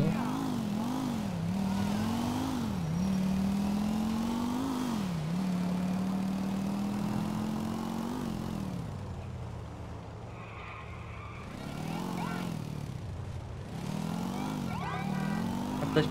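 Motorcycle engine in Grand Theft Auto IV, a steady game-engine drone that rises and falls with throttle changes, revving up and easing off repeatedly while riding, with a brief quieter dip midway.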